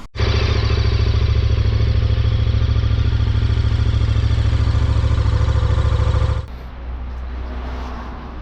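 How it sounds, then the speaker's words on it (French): A motorcycle on a rainy winter morning in Honfleur runs at a loud, rough, clattering idle for several seconds, then the engine drops off abruptly to a quieter background rumble. "Et la moto va galérer à démarrer."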